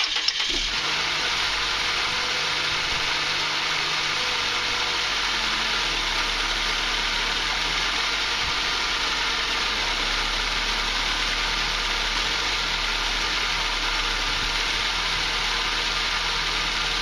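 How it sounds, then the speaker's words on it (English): A car with worn motor mounts idles just after starting, a steady low engine hum and faint vibration that drone on evenly and fairly quietly for the whole stretch without speech. "let me start it up, and you'll be able to see how much the engine moves around"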